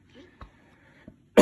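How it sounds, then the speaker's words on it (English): A man with a sore throat, recovering from a cold, gives a single loud, harsh cough close by, preceded by a couple of faint throat noises and near-silence. "my coughing and stuff"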